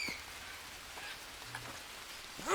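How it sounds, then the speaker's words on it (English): Soft rainfall in the jungle survival game Green Hell patters as a faint, steady hiss with scattered light drop taps, alone without voices. "it's raining"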